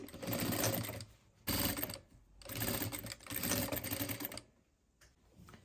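A sewing machine runs topstitching along a jeans waistband insert in several bursts of rapid needle clatter separated by short pauses, close and fairly loud, no talk.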